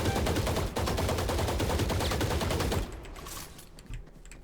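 Rapid automatic gunfire in Valorant, a game, shooting through a wall on the map Abyss: a loud, close, steady burst of shots that cuts off after about three seconds, followed by quieter scattered sounds.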